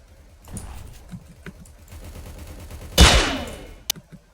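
Shotgun shots in a video game, scattered muffled pops and then one loud close blast with a ringing tail, followed by a brief sharp report, amid game noise with no clear talk.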